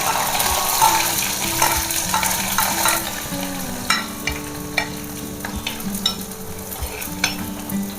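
Garlic and onion fry in oil for sambar, a continuous close sizzle broken by stirring clinks and scrapes of a utensil against the pan, with no voices.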